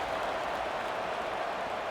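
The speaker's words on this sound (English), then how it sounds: "this crowd is buzzing after that last score" A steady, dense roar of a stadium crowd in EA College Football 26, buzzing after a score in a simulated Arizona at Colorado game, even and continuous without breaks.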